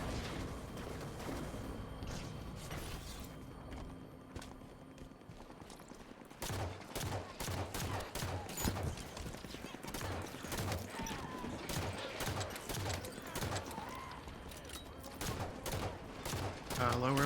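Rapid gunfire from the video game Halo 5, bursts of sharp shots crackling densely through the second half, with earlier muffled game noise and some talk underneath.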